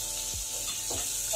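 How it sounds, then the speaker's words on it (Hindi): Onions fry in a pan for chicken biryani, a steady, fairly loud hiss of sizzling oil with a couple of low bubbling pops, no voices. "प्याज ये अच्छे से फ्राई हो गए"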